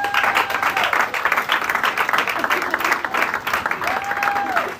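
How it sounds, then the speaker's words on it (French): Sustained applause from an audience at a certificate award ceremony in a workshop, dense steady clapping throughout with a faint whistle tone and some voices mixed in. "Toujours sous les applaudissements, s'il vous plaît."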